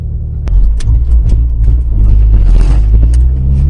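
A car with a Honda H22A engine pulls away with a loud, close, deep engine rumble that swells as it gets moving, with an occasional sharp knock over the drone.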